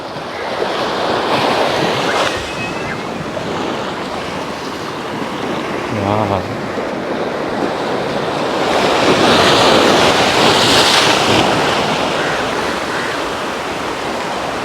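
Ocean surf on a beach after rain, waves washing and rumbling continuously while wind buffets the microphone, loud and near, with a faint voice briefly heard beneath the roar.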